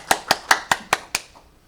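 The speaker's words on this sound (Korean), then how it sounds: "박수로 모시겠습니다." A few sharp hand claps ring out in a quick, even series of six, fairly close and crisp, then stop, as a small audience greets the next panel speaker at an ESG forum discussion.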